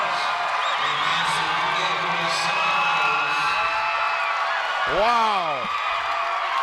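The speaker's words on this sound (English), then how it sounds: "And listen to this crowd." Basketball crowd at a 3A state quarterfinal game roaring continuously in the final seconds, a dense sustained wall of cheering with whoops and a rising shout near the end, while a voice exclaims briefly.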